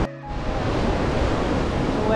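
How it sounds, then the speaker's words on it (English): Ocean waves roll onto a slippery beach at Doubtful Sound in a loud, close, continuous rushing wash of surf. "The waves coming in."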